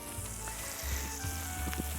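Provoleta cheese sizzles on a grill in a continuous close crackle, with small pops scattered through the steady hiss.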